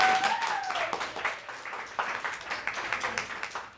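Applause from a poetry slam audience for a poet, a steady burst of many hands clapping with a faint whistle and cheer near the start, fading gradually.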